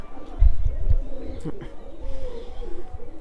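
Pigeons, including a white one, coo in low soft bursts inside a coop, close by, with faint rustling and some background voice.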